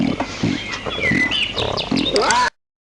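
Cartoon pigs from a 1999 children's farm video game grunt, oink and squeal in quick repeated bursts for a couple of seconds before cutting to silence.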